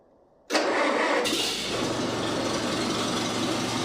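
An engine cranks and fires abruptly, then settles into a steady, even idle, heard close and loud with no voices on a cold morning.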